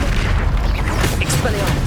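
A Confringo fire spell from Hogwarts Legacy on PS5 bursts in a loud, continuous booming blast with a dense rumble and crackle throughout the short moment.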